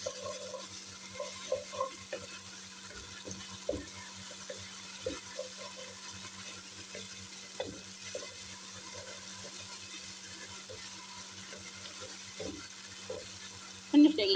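Chopped onions cooking in a pan with garlic and ginger, giving a faint, steady low sizzle with occasional soft stirring clicks and scrapes, ending in a brief louder clatter.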